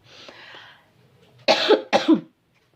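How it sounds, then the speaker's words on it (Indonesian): A soft breathy sound, then two loud, harsh coughs in quick succession close to the listener, followed by silence. "Sorry ya, batuk aku ketularan serumah sakit."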